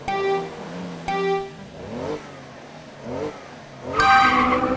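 Race cars accelerating off the line on Reactor Street in a racing video game, a Lamborghini on pole, with loud bursts of rising engine revs and several swooping pitch sweeps as the cars launch and pass.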